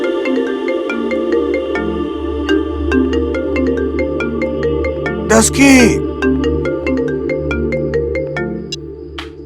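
A melodic phone ringtone plays loudly and repeatedly, its tune looping; a voice briefly cuts in partway through.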